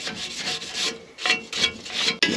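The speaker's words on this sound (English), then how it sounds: "Got just a standard little wire brush." A small standard wire brush scrubs gunk off a steel brush guard for a Jeep ZJ bumper build, in quick rhythmic back-and-forth rasping strokes, close and steady with brief pauses.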